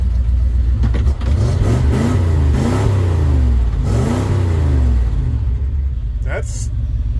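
A 1977 Ford F250 engine with its EEC system removed and not yet tuned revs up and down repeatedly, loud and rumbling up close. A voice talks over the revving.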